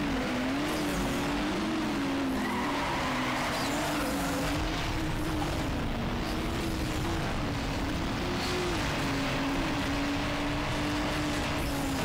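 A car engine racing in Need for Speed Underground during a quarter-mile drag race, a loud, steady drone whose pitch slides up and down through gear changes and holds for the full stretch with no talk.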